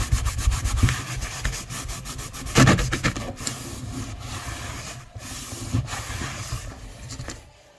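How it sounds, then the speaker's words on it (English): Steady rubbing and sanding strokes on carved kolrosing wood as oil and coffee are worked into the surface, a close, continuous scratchy friction with a few louder swipes and no talking. "I'm going to put some oil in and put some more coffee. So I think we need to oil it a little bit more. And just give it one more rub."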